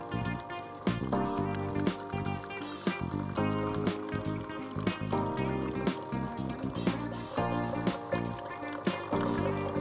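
A Dolce Gusto Genio 2 coffee machine runs water through its rinse cycle during descaling, with continuous gurgling and splashing liquid over a steady pump hum at close range.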